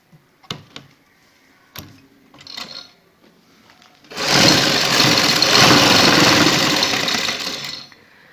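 A sewing machine runs in a fast, steady burst of stitching for about four seconds while hemming the jointless lace edge of a sleeve, after scattered clicks and fabric handling.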